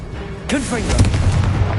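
A Confringo fire spell cast in Hogwarts Legacy on PlayStation 5 gives a sudden fiery blast that leads into a sustained rumbling burn. A voice speaks briefly over the start.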